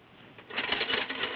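A short metallic rattling clatter builds quickly and continues, like a chain running out, moderately loud with no talking.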